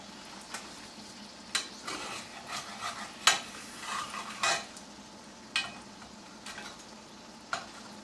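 Scrambled eggs scraped and stirred off the bottom of a cast iron pan, with a soft sizzle under repeated scrapes and light clinks of the utensil against the iron, close and moderately quiet, no talking.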